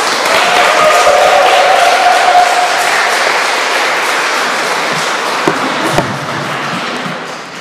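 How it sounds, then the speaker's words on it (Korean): A congregation at a Korean church service in Paris claps loudly to welcome the pastor, a dense, sustained wash of applause close by that slowly eases off, with a few sharper knocks near the end. "우리 목사님 나오실 때 한번 큰 박수로 환영하겠습니다."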